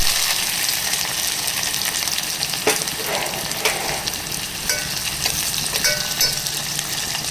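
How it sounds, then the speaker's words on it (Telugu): Sliced onions sizzle steadily in hot oil in a pan, a loud, continuous frying hiss with occasional stirring scrapes and no talking. "నూనె కాగిందండి, ఇందులో మనం ఉల్లిగడ్డలు వేసేస్తాము."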